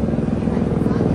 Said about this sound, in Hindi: हेलीकॉप्टर जा रहा है वैष्णो देवी का।